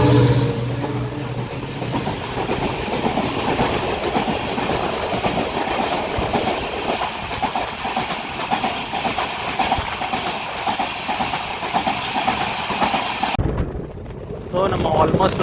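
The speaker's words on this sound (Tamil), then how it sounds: "நீங்கள் பாருங்கள் இது ராமேஸ்வரம் டு தாம்பரம் ட்ரெயின் இது" A Rameswaram to Tambaram passenger train near the Pamban bridge gives a loud, steady rumble with rhythmic wheel clatter and heavy wind buffeting, heard from close by for most of the stretch and cutting off briefly near the end, with possible faint talk underneath.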